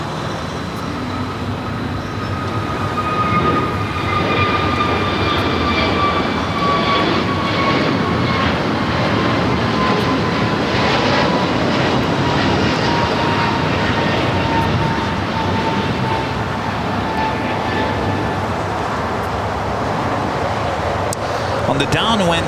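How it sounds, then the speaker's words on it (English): An American Airlines Airbus A321neo jet bound for Dallas Fort Worth rolls down runway 25 right at Los Angeles International Airport, its engines building to a loud, sustained roar with a whining tone gliding downward, while people talk over it. "American A321neo heading to Dallas, Fort Worth, Texas. Now rolling down at 25 right."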